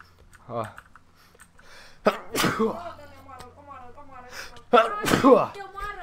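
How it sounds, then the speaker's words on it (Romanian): A person sneezes, with a soft lead-in breath and then two sharp bursts close to the microphone, amid quiet computer keyboard clicks and brief speech. "Oh my god, m-a luat strănutul rău"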